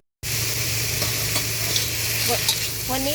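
Garlic stir-fries in a pan, an immediate loud steady sizzle with occasional scraping stirs and a faint voice-like tone at the very end.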